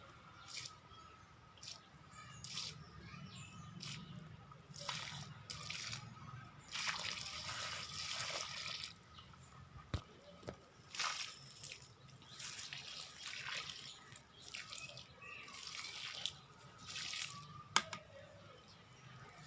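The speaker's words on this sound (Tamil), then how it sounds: "சின்ன கண்டனால கொஞ்சம் கொஞ்சமாக தண்ணி ஊற்றணும்" Water trickles slowly from a small container onto a garden plant, a faint, uneven splashing and dripping in soft bursts, with a few quiet background noises.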